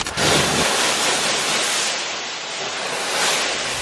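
Water sprays over a car wheel during a final rinse after foaming wheel cleaner, a close, loud rushing hiss that swells and eases slightly over a few seconds.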